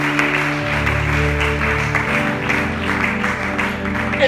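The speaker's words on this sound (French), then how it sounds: "Acclamons pour la gloire du Seigneur." A church congregation applauds and cheers together during a French-language service, a dense continuous clapping wash with voices mixed in, steady and close for a few seconds.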